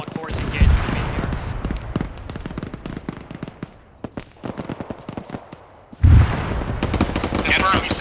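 Gunfire in ArmA 3 rings out as sharp, repeated bursts of shots, loud and close, with heavier blasts at the start and again near the end, while radio-style voices talk between the volleys.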